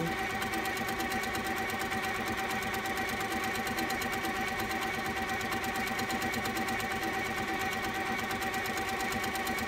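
A sit-down sewing machine stitches fabric in free-motion quilting, its needle chattering in a fast, even, continuous rhythm at constant pedal speed, close and steady throughout.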